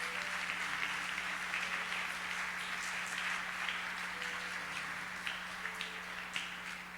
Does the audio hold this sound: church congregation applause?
yes